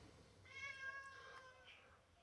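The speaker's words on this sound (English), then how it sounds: "I had to let the cat back in today" A house cat meows indoors on a stormy day, one drawn-out, fairly faint meow over quiet room background.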